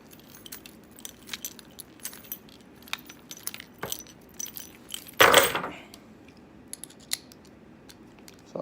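Metal keys — apartment, mail and security door keys — clink and jangle in scattered light taps while being fitted into a KeySmart holder, with one louder rattling burst midway; nearby and without talk.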